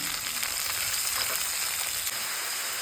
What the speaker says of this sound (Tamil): கட் பண்ணி வச்ச 3 பெரிய வெங்காயம் இதையும் சேர்த்துக்கிடுங்க. நல்லா வதக்கிடலாம்.